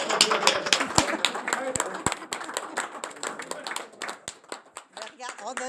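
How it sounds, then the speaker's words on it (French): Applause at an award ceremony for certificates of recognition, with a crowd clapping in a dense, steady patter that thins out toward the end, mixed with voices talking. "une bonne main d'applaudissement"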